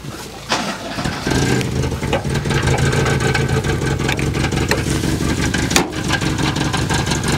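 A Porsche engine, just brought back to life and still leaking, catches after a brief start and settles into a loud, uneven, lumpy idle close by, with sharp clanks and a pop partway through.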